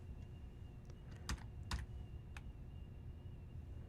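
Keys on a computer keyboard clack in a few sparse, separate clicks while IP addresses are typed, quiet against a faint steady hum.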